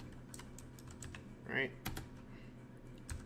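Keys clatter on a computer keyboard as commands are entered in a Kali Linux terminal, a quick run of close taps with a few louder strokes while someone speaks.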